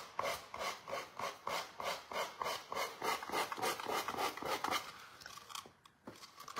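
Rhythmic scratchy rubbing strokes of rolled sandpaper on painted furniture, about two per second, then slowing and fading out near the end; close-up sanding sound with no voices.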